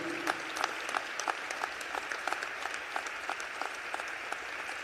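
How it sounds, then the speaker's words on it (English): Applause at a state General Assembly session, a steady wash of clapping from a sizable audience with scattered sharper individual claps, heard alone without speech. "give my wife a round of applause because she's going to need it"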